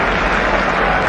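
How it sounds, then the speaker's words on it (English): A stadium crowd at the 1983 cricket World Cup final roars and applauds after a batsman plays a reverse sweep, a dense, steady wash of clapping and cheering that fills the whole moment without pause. "That's a roar of applause from the crowd."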